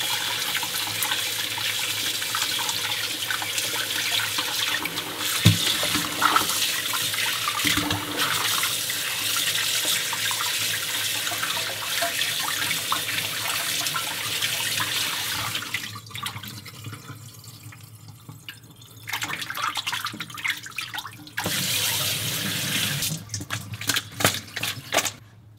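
Tap water runs steadily into a sink while semi-dried pollock is washed by hand, with splashing and brief pauses in the flow, close and fairly loud.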